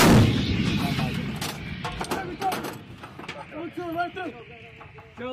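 A Marine M777 155mm howitzer fires during the Balikatan exercise: one heavy, booming blast opens and rumbles away, followed by shouted commands and voices nearby.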